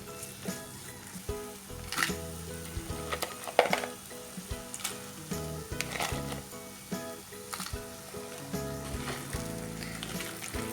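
Crab pieces go into a pan of masala for a Kerala-style crab roast and sizzle steadily, with scattered clinks and scraping from stirring, fairly close and moderately quiet, with music playing underneath.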